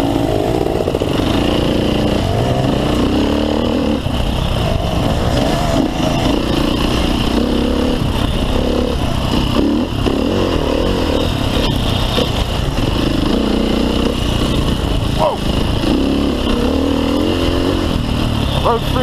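Off-road Yamaha motorcycles racing on a rough trail during the Hammer Run event in New Jersey, engines droning and revving steadily close by for the whole stretch with brief louder bursts, a rider's breathing and voice faintly mixed in.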